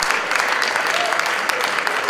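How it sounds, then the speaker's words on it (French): An audience applauds at a French ideas festival, a dense, steady clatter of many hands clapping without pause. "On applaudit Maude Pérez-Simon"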